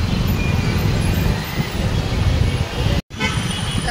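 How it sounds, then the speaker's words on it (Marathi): Congested road traffic surrounds a stopped vehicle, a dense, loud rumble of engines and tyres with a faint horn toot, running steadily until a sudden brief dropout near the end. "तर बघा इकडं आम्ही रस्ते जाताना आम्हाला ट्रॅफिक लागले"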